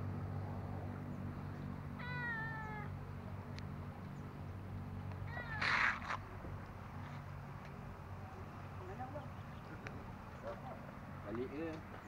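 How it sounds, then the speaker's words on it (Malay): A cat meows at a homestay during a Malaysia Day holiday, brief and moderately close around the two-second and six-second marks, under steady background hum and people chatting. "Ada miau cedera."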